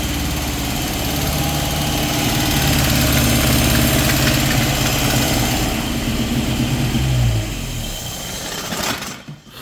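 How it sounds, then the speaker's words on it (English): A Datsun engine runs loud and close with its choke pulled, holding a steady rough idle with a low rumble. Near the end the revs dip, the sound dies away and a few clatters follow. "we're gonna pull the choke and hopefully this thing fires up."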